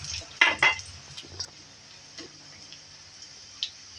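Garlic going into a pan after golden-brown ginger for shrimp with string beans in coconut milk: a faint sizzle with a few sharp clinks of a utensil stirring against the pan.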